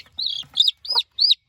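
A silver laced Wyandotte chicken clucks in four short, close, bright calls separated by brief gaps, with no talking over it.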